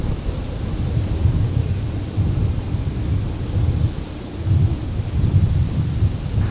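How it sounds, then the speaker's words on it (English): Strong wind and heavy rain at Brisbane Airport on a Friday night: a steady, roaring wash of noise with gusts buffeting the microphone in uneven surges throughout. "the wind has really picked up in the last few seconds, and I'm getting absolutely drenched"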